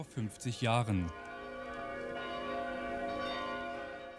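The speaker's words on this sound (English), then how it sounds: "the ringing bells came in waves" A voice speaks briefly, then large church bells ring out across Dresden from many churches at once, with a long, humming resonance that sustains and slowly swells.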